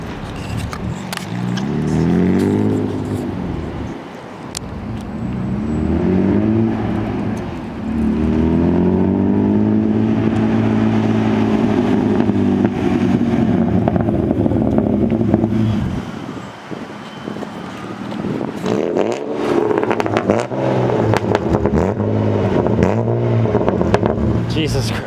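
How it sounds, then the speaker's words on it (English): A BMW E36 328i convertible engine idles and revs in bursts, its exhaust burbling and popping low and loud close by, with brief pauses between throttle blips. "I love when it burbles, it sounds so good."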